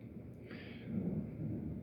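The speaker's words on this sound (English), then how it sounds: "you can hear the thunder in the background." Thunder rumbles faintly in the distance, a low, soft swelling roll that builds and then holds quietly.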